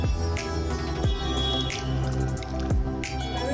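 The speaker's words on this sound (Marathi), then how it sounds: "आणि उकळी आलाय आता एक एक करून मी सोडून देते" Eggs dropped one at a time into a pot of boiling water while cooking a Vidarbha-style village dish, giving a few distinct plopping splashes over a steady bubbling boil.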